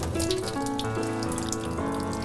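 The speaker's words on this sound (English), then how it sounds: "So let's get rid of the water." Soaking water is poured off a bowl of currants into a sink during meatball prep in a home kitchen, a steady close splashing pour running unbroken for a couple of seconds without any talk.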